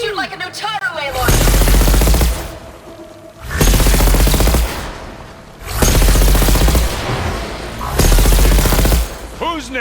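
Gunfire in the video game Horizon Forbidden West: four loud, sustained bursts of rapid shots separated by short lulls, with a brief voice at the very start.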